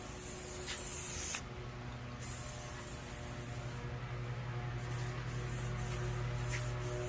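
Shine spray from an aerosol can misted onto a jetski in a continuous close hiss, with one brief pause early on and a few short breaks near the end.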